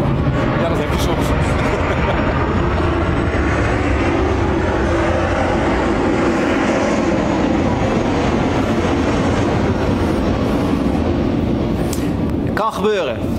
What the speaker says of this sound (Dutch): want het vliegtuig over is